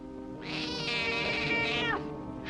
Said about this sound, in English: That cat gives me the willies.